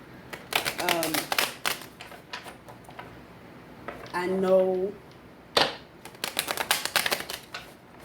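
Crisp, rapid riffling bursts of tarot cards being shuffled, several rounds separated by short pauses, with a person speaking briefly in between.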